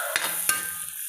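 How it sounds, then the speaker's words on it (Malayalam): A spoon stirs chicken and masala in a frying pan, giving two quick scraping strokes over a soft sizzle in a short, close burst with no voices. "ഇളക്കി യോജിപ്പിക്കുക."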